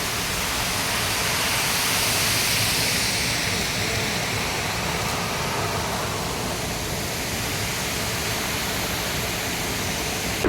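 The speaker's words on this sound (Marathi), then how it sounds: "पाणी इकडं पडतंय ते" Steady broadband roar of water pouring over a weir, constant and close, filling the scene with no voices.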